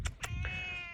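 A pet cat meows near the camera in a homestead garden in late June, a few short close calls over a steady outdoor hum.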